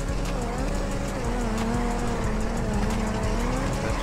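A Turismo sports car in GTA 5 skids at a street car meet after blowing a tire. Tires squeal and the engine drones loudly and continuously, with other engines in the background.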